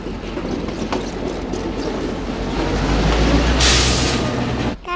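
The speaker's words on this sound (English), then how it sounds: "That train is really fast." Fast train rushing past nearby, a loud continuous roar with clattering wheels building to a peak and ending in a sudden hiss, with no voices.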